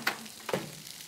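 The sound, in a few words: bacon sizzling while being ironed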